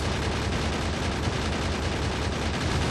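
Dense, continuous gunfire from turrets in the video game Factorio, a rapid, unbroken rattle of shots blending into a loud roar throughout, with no talk.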